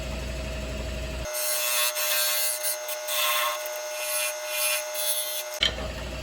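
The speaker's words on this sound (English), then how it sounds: "I usually take a smaller gouge and round everything over" A smaller gouge cuts and scrapes a sycamore salad bowl on a lathe, rounding over the rim in a steady, close, continuous rasping hiss that lasts several seconds without speech.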